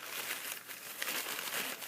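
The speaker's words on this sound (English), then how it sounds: "Then you're going to take your paper towel and you're going to wipe off" A paper towel rubbed across the lid of a watercolor paint set, a close, quiet crinkling and scrubbing with uneven bursts of rustle and no pauses.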